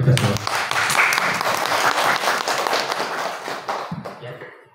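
A room of teachers at a school training session claps together in a broad, sustained burst of applause lasting several seconds, steady and dense before thinning out at the end.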